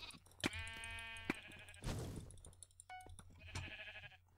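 Sheep in a Minecraft Mineplex mini game bleating several times in a row, the blocky game bleats fairly clear against quiet background sounds, with no one talking.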